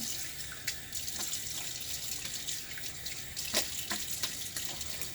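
Water splashing and dripping at a running sink as a man rinses his face after a wet shave with a Gillette Tech razor, a steady close faucet wash with small irregular splashes.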